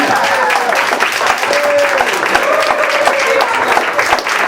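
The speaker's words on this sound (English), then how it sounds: "Come on now, a little more applause." Audience applause after a poem performance at an internet TV station launch event, sustained crowd clapping mixed with voices and some cheering, moderately loud and close, with a few distinct individual claps.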